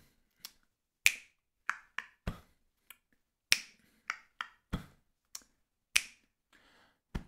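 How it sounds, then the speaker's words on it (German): Body percussion with crisp finger snaps and hand claps in a rhythmic sequence, about a dozen sharp, close hits with short pauses between them and no speech. "Zweimal klatschen, zweimal schnipsen."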